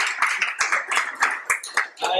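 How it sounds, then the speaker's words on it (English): A small gathering applauds their council president, a few scattered, distinct claps spaced unevenly rather than a full ovation, close by with some speech-like sound mixed in. "Give a round of applause as your president of this council."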